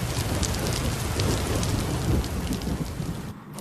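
Heavy rain pours on the streets of Lomé as a dense, steady hiss of drops striking surfaces, loud and close with no voices, easing slightly at the very end.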